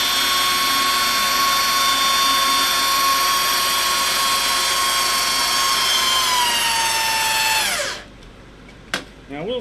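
Loud, steady high-pitched whine of a power drill running for several seconds, then winding down and stopping, followed by a brief short burst.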